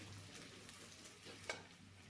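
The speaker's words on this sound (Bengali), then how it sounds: "কড়াইয়ে সর্ষের তেল দিয়ে তাতে কেটে রাখা পেঁয়াজ দিয়ে দিচ্ছি" Chopped onion frying in mustard oil in a wok gives a soft, steady sizzle, faint and even, with one small pop near the end.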